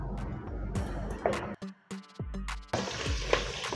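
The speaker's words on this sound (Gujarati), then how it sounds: "અમને જીરુંથી વઘાર કરેલો છે." Cumin seeds tempering in hot oil for sabudana khichdi crackle and sizzle up close in bursts, broken by brief gaps and sharp clatters of a utensil.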